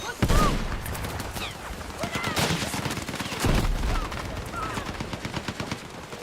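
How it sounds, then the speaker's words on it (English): An enemy fires on the player from behind in a competitive shooter match, rapid bursts of gunshots cracking in clusters, some close and loud, others further off, under game noise. "there's a guy's in our spawn shooting from behind us right now"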